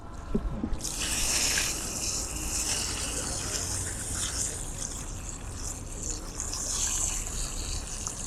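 A tap runs onto a freshly cleaned croaker fish at a Boynton Beach dock, making a steady, fairly close rushing hiss that starts after a brief pause and holds evenly to the end.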